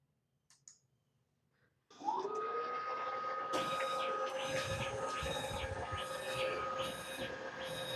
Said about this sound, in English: it's printing again